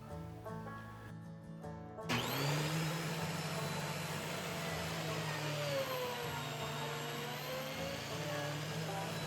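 A thickness planer takes reclaimed wood boards on a sled down to flat, starting abruptly after a short quiet lead-in and settling into a loud, steady droning roar that runs on without a break.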